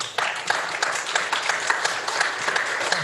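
An online audience cheers and claps over a video call after a senior piano recital at La Sierra University: a dense, steady patter of applause with scattered voices that lasts the whole stretch at moderate loudness.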